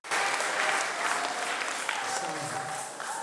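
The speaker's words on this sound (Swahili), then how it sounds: "Moja, tuwapigie makofi pia watansi ya rais." An audience at a youth conference applauds with a dense burst of clapping that sets in sharply and carries steadily to the end, with faint voices mixed in.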